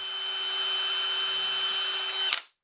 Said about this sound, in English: I drill the same hole on the side panels for each of the drawers, except this material is a lot thinner, so I'm just drilling all the way through